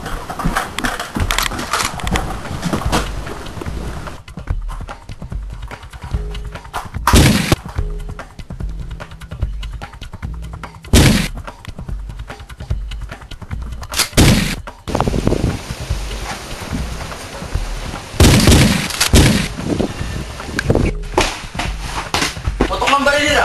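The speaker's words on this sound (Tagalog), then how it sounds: "Putok ang baril nila!" Sharp gunshot cracks come in scattered bursts, some loud and close, with frantic shouting from several people between the shots.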